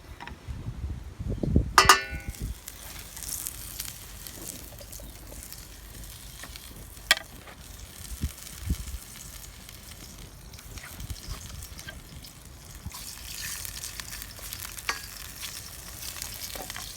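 Steady sizzling and crackling of pork frying in a pan over an outdoor wood fire, with a sharp clatter near the start and occasional utensil knocks throughout.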